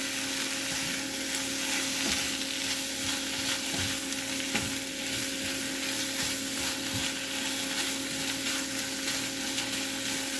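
Carbonara noodles cook in a pan, giving a steady close sizzle with soft stirring scrapes throughout, alone with no talk.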